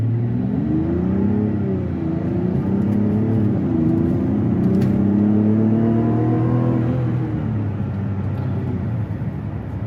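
A 2024 Mazda CX-90 Turbo accelerates with a loud, continuous engine drone heard from inside the cabin, and its pitch climbs and then drops as the transmission shifts up.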